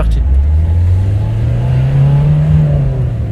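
A Renault Clio 1 Chipie engine revs up loud and close, its pitch climbing steadily as the car pulls hard through a gear under dynamic driving.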